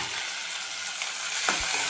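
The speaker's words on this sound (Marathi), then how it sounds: "आता सर्व जिन्नस 2 मिनिटाकरता आपल्याला असंच परतवून घ्यायचं" Tomatoes, chillies and curry leaves stir-frying in a pan give a loud, continuous hiss and sizzle, broken near the end by a brief scrape of the spatula.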